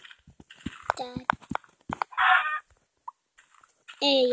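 Chickens cluck in a survival video game, with short clucking bursts and brighter squawks heard between bits of a player's talk.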